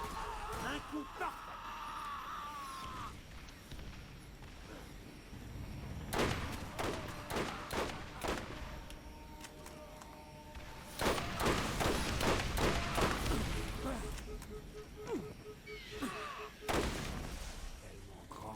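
Gunfire and explosive thumps in the shooter video game Borderlands, with repeated sharp shots in bursts and heavy impacts amid game effects, while someone talks in French over the action.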